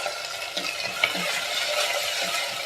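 Tomato sautés with onion, garlic and curry leaves in a pan for a Tirunelveli fish curry, giving a soft, continuous sizzle with brief scrapes of a spatula stirring through it.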